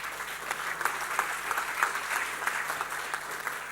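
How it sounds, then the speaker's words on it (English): Audience applause fills the hall at the official commissioning of the African Continental Free Trade Area Secretariat in Ghana, a steady, dense crowd of clapping hands sustained throughout at moderate distance, with no voices rising above it. "do allow me to request a resounding round of applause for this historic moment in the continent"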